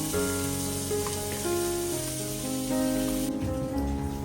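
Bitter gourd frying in a pan makes a steady, close sizzling hiss that runs without a break, with a low tonal hum underneath.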